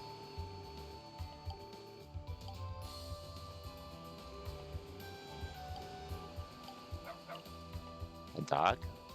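A dog barks in a short burst of yips near the end of a stretch of steady background music in the video game Nayuta: Boundless Trails, with a person talking over the game audio.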